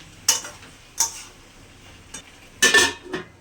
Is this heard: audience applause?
no